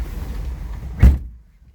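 A Chrysler car door shuts with a single solid thump, close and fairly loud, followed by quiet.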